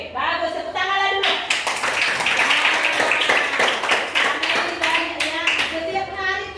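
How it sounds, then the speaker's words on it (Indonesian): Elementary school pupils clapping hands together in a classroom, a rhythmic burst of sharp claps throughout, mixed with children's voices. "Tepuk tangan dulu."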